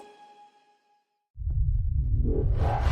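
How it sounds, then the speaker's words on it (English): A sudden, loud, deep rumbling boom from a supersonic shock wave breaks a near silence and swells into a sustained roar that fills the rest of the moment. "That sound is the explosion of a supersonic wave."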